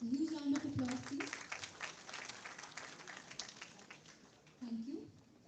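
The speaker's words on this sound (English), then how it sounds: "A huge round of applause, please." A plenary session conference audience claps in a faint, distant round of applause lasting a few seconds. A voice speaks briefly before the clapping and again near the end.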